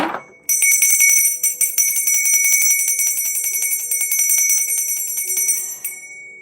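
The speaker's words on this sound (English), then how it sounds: "That bell be giving me trouble" A bell rings loudly and continuously in a rapid, bright trill for about six seconds before cutting off, close and alone after a brief sound at the start.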